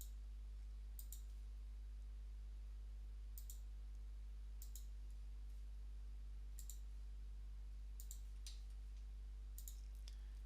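Sharp single and double computer mouse clicks come at scattered intervals over a quiet low hum, close and crisp, with no talk.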